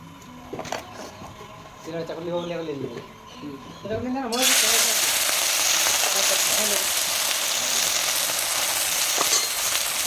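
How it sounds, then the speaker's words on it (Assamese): Talk is heard first, then hot oil bursts into a loud, steady sizzle as long chillies drop in and keep frying. "এই দীঘল দীঘল জলকীয়াটো তেলত দি পেলাই দিছে"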